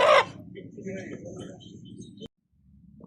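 A native rooster of about three kilograms gives a short, loud squawk-like cluck right at the start, then people talk nearby over low background noise.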